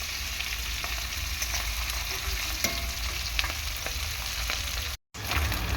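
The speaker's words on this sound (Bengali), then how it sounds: "দেখো প্রত্যেকটা মাছই ভালো করে ভাজা হয়ে গিয়েছে" Small tangra fish fry in hot oil with a steady, dense crackling sizzle and occasional sharper pops, close and continuous apart from a brief dropout near the end.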